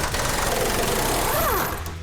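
An impact wrench tightens the K-member bolts on a GTX car, giving a loud, steady, close mechanical buzz that lasts about two seconds with a brief pitch sweep.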